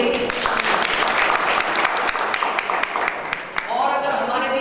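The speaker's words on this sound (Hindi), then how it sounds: "एक बार जोरदार तालियां सबके लिए।" Enthusiastic clapping from a seminar audience, brisk and close, which tapers off near the end as a voice begins speaking.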